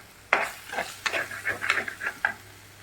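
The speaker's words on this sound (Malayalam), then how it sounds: "വെളുത്തുള്ളി ഇട്ട് കൊടുത്ത ശേഷം ഞാൻ സ്ലോ ഫ്ലെയിമിലാക്കിയിട്ട് വെച്ച് കൊടുക്കുന്നുണ്ട്" Garlic and masala sautéing on a slow flame for a tuna fish curry, with a soft sizzle under irregular spoon scrapes and clinks against the pan, close by and without speech.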